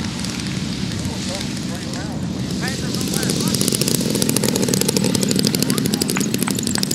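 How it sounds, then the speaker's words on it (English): A propeller warbird at an airshow in Atlanta comes in on final approach to land, its engine drone rumbling loud and close with wind buffeting, while an announcer talks over the public address. "We've got a plane on final right now."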